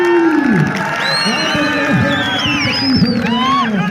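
A crowd claps and cheers at a kushti wrestling dangal in Malerkotla, a loud continuous roar of voices, whoops and applause, with a voice calling out over it.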